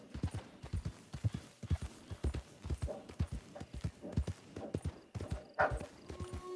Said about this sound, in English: I mean, a horse.